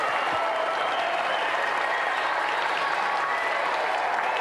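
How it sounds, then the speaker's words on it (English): Steady, dense applause from a television game show studio audience, loud and continuous throughout with no voices standing out. "Round of applause for tonight's challenger."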